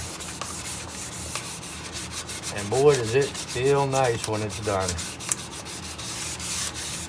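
Hand sanding by hand on wooden end grain gives a soft, steady rubbing that runs through the whole stretch, with a person talking briefly over it in the middle.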